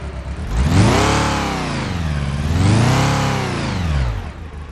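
Car engine in an engine management training simulator with a cylinder 1 misfire fault and the check engine light on, revving up and down twice in smooth loud swells with a rough, uneven whir underneath, no voices.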